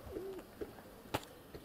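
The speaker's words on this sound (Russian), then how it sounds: "Но главное для меня голуби." Pigeon cooing outdoors nearby; a few soft, low throaty coos in short separate bursts with quiet gaps between, plus one sharper brief sound near the end, no voices.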